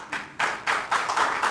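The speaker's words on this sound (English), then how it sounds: "if we hold our applause, we'll get a lot more questions in" An audience applauding at a state superintendent candidates' forum held by a county Republican party, a short burst of clapping in rising, uneven waves, fairly close and clear with no talk.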